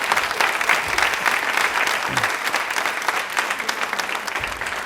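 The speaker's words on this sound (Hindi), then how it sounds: "कल्पना चावला जी के लिए दिल से तालियां होनी चाहिए, जोरदार वाली होनी चाहिए।" An audience at a Women's Day quiz show gives steady, loud applause in honour of Kalpana Chawla, a continuous dense patter of many hands without a break.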